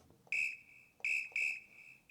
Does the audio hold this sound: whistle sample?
yes